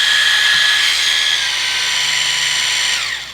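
PediVac electric callus remover grinding with its built-in vacuum running, a steady high-pitched whining motor hum that holds level and then winds down at the end, close and loud with no talking.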